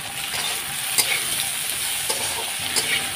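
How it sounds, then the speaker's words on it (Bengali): Turmeric and salt stirred in a hot frying pan, a steady sizzle with a few sharp spatula clinks and scrapes spaced through it, close and even in level. "এই এখন একটু নাড়াচাড়া কিছুক্ষণ দিয়ে তারপর জল দিয়ে দেবো"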